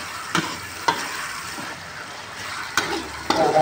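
Tauco, a fermented soybean paste, stirred in a frying pan with papaya flowers, giving a steady close hiss of frying and a few sharp scrapes of a spatula against the pan, with no voices.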